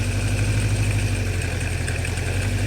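A 1976 Honda CB550 motorcycle engine, fitted in a chopper, idles steadily and close by with a continuous low, even rumble and no break, choke still on after a first start in decades.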